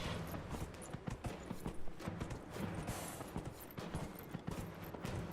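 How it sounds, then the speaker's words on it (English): Horse hooves gallop in a video game at a steady, leisurely, rolling clip-clop rhythm, loud and close, with a dense noisy wash behind them and no talking. "it's a leisurely gallop here"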